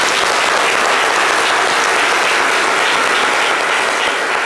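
Dense, steady studio audience applause for the show team of a French-language midday TV programme, loud and continuous with no pauses.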